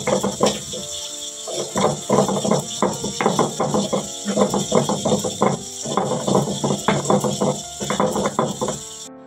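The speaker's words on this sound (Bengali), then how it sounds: "ভালো করে রসুনগুলোকেও এখন পেস্ট করে নেব।" Garlic ground into paste on a grinding stone, with steady, rhythmic scraping strokes repeating close by for several seconds over a faint constant background hum.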